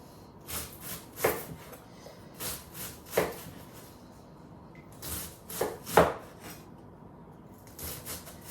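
Cabbage chopped by hand with a knife for sauerkraut: close, irregular thuds of the blade striking the board, some in quick pairs and others spaced apart, with no voices.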